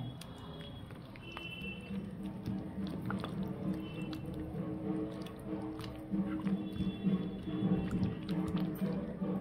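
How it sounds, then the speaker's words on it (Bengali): Hands squish and knead spice paste into raw mutton pieces for chicken chaap, a soft wet squelching that keeps going at close range with no talk. "মশলাটা মাখিয়ে নিচ্ছি মাংসে"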